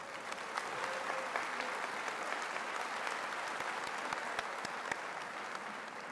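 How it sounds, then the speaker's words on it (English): Sustained audience applause at a college commencement ceremony, honoring a brass ensemble of trombones and tuba; dense, steady clapping from a large crowd filling the hall without pause. "Let's please give them a round of applause."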